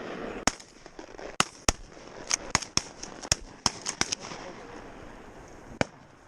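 Shotgun blasts during a duck hunt, about a dozen sharp, loud shots in irregular bursts with brief gaps, over quiet outdoor ambience and occasional low talk.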